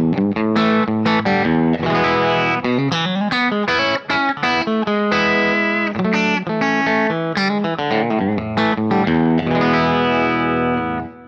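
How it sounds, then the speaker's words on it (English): A clean electric guitar plays chords and single-note runs through a Kemper amp profile of a blackface-style clean amp, full and bright with a touch of shimmer, loud and close. "this is just a basic blackface clean sound"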